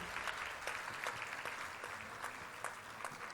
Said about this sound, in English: A round applause for her